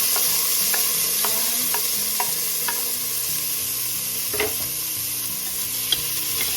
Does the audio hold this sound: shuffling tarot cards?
no